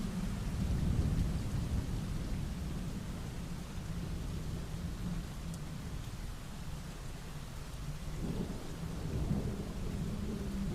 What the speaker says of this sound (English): Rain came hurtling down, the wind whistled, thunder boomed, lightning struck.